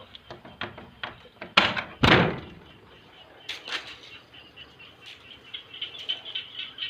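A stiff, rotting wooden door forced open: scattered scrapes and creaks, then two loud thuds and a scraping drag, followed by softer knocks and rustling, close by, with no talking.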